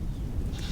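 A short, wavering bleat from a goat nearby, brief and unaccompanied by speech.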